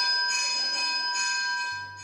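A cowbell used as a school bell to mark the start and end of a lesson rings in a few quick, bright clangs with steady ringing overtones, moderately loud and alone.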